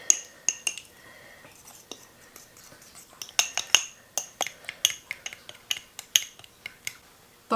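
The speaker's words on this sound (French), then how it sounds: "Et puis je vais brasser." Egg and keto muffin batter stirred with a spoon in a bowl, giving repeated light clinks and scrapes against the side, faint at first and then quicker and more regular.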